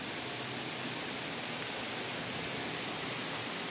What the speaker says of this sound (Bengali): এখন আবার মুষলধারে বৃষ্টি আরম্ভ হলো।